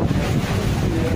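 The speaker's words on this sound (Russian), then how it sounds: "Ну, сейчас опять вот, видишь, тут, мол, перебивают волны." Waves breaking against a moving speedboat at sea, a loud, continuous rushing wash of water mixed with heavy wind buffeting the microphone.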